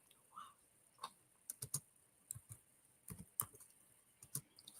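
Soft, uneven clicks of typing on a computer keyboard, a few quick keystrokes scattered in short bursts with pauses between, faint and close in a quiet room.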